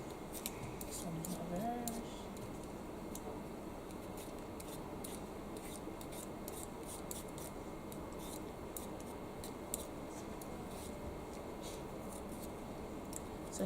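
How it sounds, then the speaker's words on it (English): A potato is peeled quickly with a hand peeler in a school kitchen, making a rapid series of short scraping strokes, close and quiet, over soft low background noise. "I'm just peeling on the side quite quickly, and I'll show you the desired size for cutting your potato."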